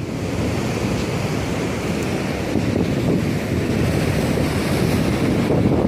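Ocean surf washes continuously against a beach jetty at 37th Street, a broad steady rush close to the microphone with wind buffeting it.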